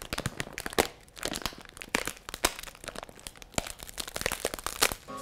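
A noodle packet is crinkled close up to imitate crackling wood, giving a busy, uneven stream of crisp crackles and pops with no voices.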